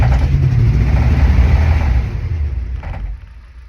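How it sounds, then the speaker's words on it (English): A van engine runs loud and close with sustained revving, the deep rumble held high for about two seconds before easing back toward a lower idle, with no talking over it. "try and keep the revs on for like 5 to 10 seconds"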